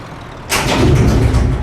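A truck in Euro Truck Simulator 2 suddenly rushes up close, a loud burst of engine roar and road noise cutting in after a quieter moment and holding strong to the end.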